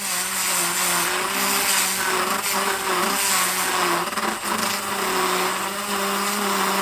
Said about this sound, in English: Like the drill bit wants to fly off.